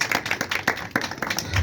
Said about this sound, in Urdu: آئے اپنے لیے تالی ہو جائے زوردار